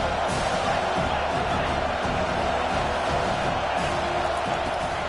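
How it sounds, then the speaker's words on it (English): A home crowd at a college football game against Penn roars steadily on third down, a dense, unbroken wall of cheering that holds at constant loudness throughout. "Here comes this home crowd as the defense tries to get off the field on 3rd down."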